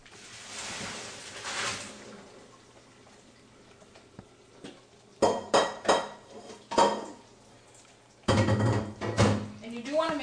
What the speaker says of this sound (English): I'm just going to drain them.